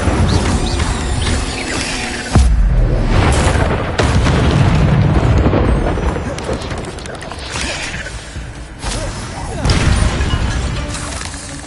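Incendio fire spell blasts in Hogwarts Legacy, loud booming bursts and crackling impacts repeating through a chaotic combat scene, with a voice speaking over the action.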